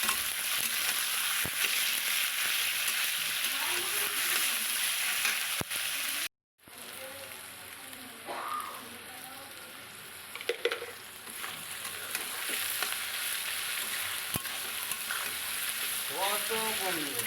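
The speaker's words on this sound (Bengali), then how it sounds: "এবার পেঁয়াজগুলো দিয়ে দিচ্ছি তেলের ওপরে" Onions frying in oil, an even close sizzle broken by a brief cut, then carrying on with occasional stirring clatter and faint background voices.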